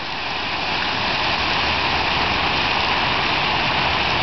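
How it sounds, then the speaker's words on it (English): Steady rain falls over a riverbank fishing spot in May, a dense, even hiss with no breaks, close and loud throughout and no voices. "It's been raining for days out here in May."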